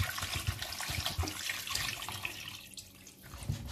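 Water pours from a tap into a cooking pot for a Spanish white bean stew, a steady rushing and splashing stream that runs for several seconds, close and fairly loud, with no talking over it.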